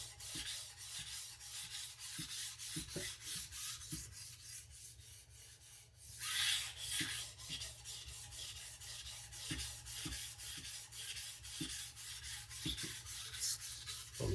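A badly abused knife edge is drawn repeatedly over a sharpening stone to raise and remove a burr, giving faint, rhythmic rasping strokes close by.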